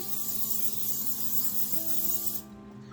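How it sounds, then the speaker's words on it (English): A steady hissing spray of cooking oil from an aerosol can onto a pan runs for over two seconds, close and loud, then cuts off, leaving a quiet background hum. "I'm going to spray down my pan."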